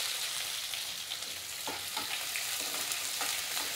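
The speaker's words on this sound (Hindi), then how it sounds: "अब हम इसमें प्याज डाल देंगे" Onions sizzle and fry in a pan with bay leaf, green chilli and cumin for a soya chunk and potato curry, with steady close crackling and a few scraping stirs, no talking.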